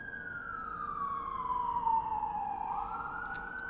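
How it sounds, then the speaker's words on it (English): Emergency vehicle sirens wail through Baltimore City streets, one rising-and-falling siren sweeping down and back up at moderate distance over faint traffic hum. "there's just hella sirens in Baltimore City"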